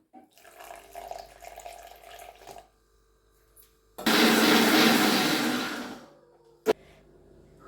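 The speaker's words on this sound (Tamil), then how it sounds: "இப்போ தேங்காய்க்குள்ளே கொஞ்சம் இளநீ தண்ணி ஊற்றி அரைச்சி எடுத்துக்கலாம்." After some faint kitchen clatter, a mixer grinder grinding coconut with tender coconut water roars loudly for about two seconds, then cuts off, followed by a single sharp knock.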